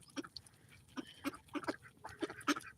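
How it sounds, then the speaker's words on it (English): Muscovy ducks on a farm make a run of short, close, breathy calls and hissing chirps in quick irregular bursts, with no voices over them. "Nice Muscovy ducks, yes."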